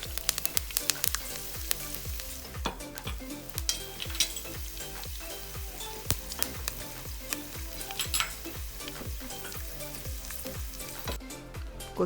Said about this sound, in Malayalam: കടുക് പൊട്ടിയതിന് ശേഷം ഞാൻ കറിവേപ്പില ഇടുന്നു.